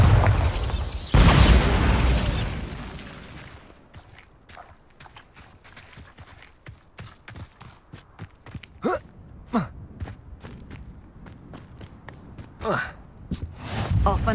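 A Bombarda explosion spell in Hogwarts Legacy opens with a loud, heavy blast and rumbling decay, followed by a long run of short sharp pops and impacts with game effects and ambience, with a voice intermittently present.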